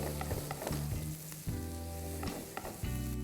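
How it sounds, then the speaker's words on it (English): Onions sauté in a hot pan with busy sizzling and crackling, bursts of spattering and a few soft scrapes of stirring, close and continuous. "I'm going to saute the onions."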